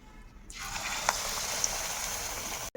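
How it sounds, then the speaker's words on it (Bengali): Eggplant slices dipped in gram-flour batter hit hot oil and burst into a loud, bright frying sizzle that holds steady for a couple of seconds before cutting off abruptly. "এইভাবে বেসনে ডুবিয়ে ডুবিয়ে দিয়ে দেবো তেলের মধ্যে"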